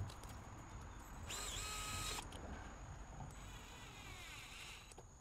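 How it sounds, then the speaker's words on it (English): A small electric screwdriver whirs briefly while driving a bolt into an aero wheel cover of a Tesla Model 3, a short high-pitched motor buzz lasting under a second, followed by faint clicks and quiet handling in a calm room. "this electric screwdriver that I'm using is such a pleasure to use"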